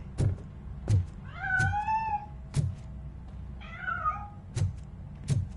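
A cat in Robocop: Rogue City gives two drawn-out meows between sharp, regular thuds and knocks, heard fairly close in a quiet game scene.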